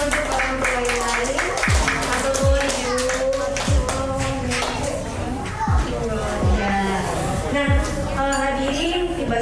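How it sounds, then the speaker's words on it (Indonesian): Clapping from parents and children at a preschool iftar gathering, a rhythmic run of claps with voices talking over it throughout. "Kita berikan tepuk tangan dan sekaligus semangat juga untuk orang tua yang lain."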